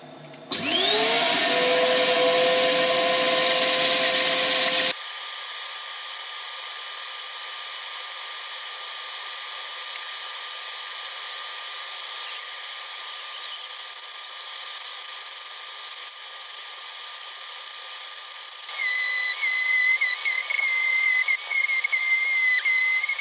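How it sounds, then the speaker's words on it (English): A power sander runs on a spalted wood turning project, a steady loud mechanical whir with a sharp high whine, louder at the start, then a constant drone that changes pitch slightly near the end. "As ever, with the sanding, I'll let you watch the start"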